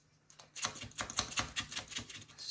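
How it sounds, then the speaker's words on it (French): A utility knife pressed hard and cutting, likely trimming a diamond painting for framing: a quick run of close, crisp scraping ticks in a rapid rhythm, faint and without speech. "Et j'appuie très fort sur le cutter"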